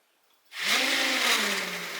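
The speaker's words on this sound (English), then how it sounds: "The rotors are spinning in the same direction, which isn't supposed to happen." A motor starts up abruptly and spins the rotors of a precision non-contact stackable magnetic gearbox, producing a steady close whirring hum with a slightly falling pitch that continues to the end.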